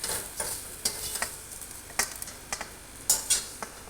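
Grated coconut stirred in hot oil for a tamarind chutney: a close, sizzling crackle with repeated rhythmic scrapes of a utensil against the pan about every half second, no voices.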